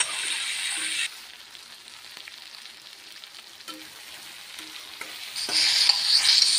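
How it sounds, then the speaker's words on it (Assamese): Pigeon meat frying in oil with onion, salt and turmeric as it is stirred in a pan: a loud sizzle at the start and end, with intermittent scraping stirs between, close up and with no voices. "নিমখ হালধি দিলোঁ আৰু এনেদৰে ভালদৰে লৰাই দিম।"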